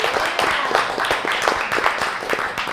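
Live studio audience clapping for a vegan cooking contestant after the judges' verdict, a steady patter of many hands with sharp individual claps standing out, loud and continuous throughout.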